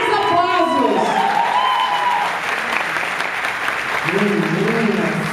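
Audience at a live stage show in Recife claps in a full, continuous wave of applause, while someone speaks over the start and again near the end.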